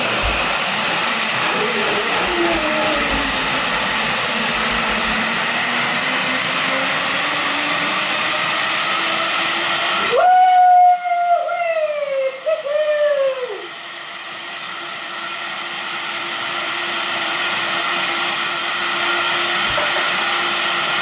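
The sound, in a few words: blender on smoothie setting blending chocolate, spinach and blueberry smoothie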